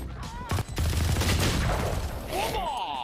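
Rapid shotgun blasts from a Fortnite match ring out in a dense, chaotic burst, loud and close, with players' voices shouting over the gunfire.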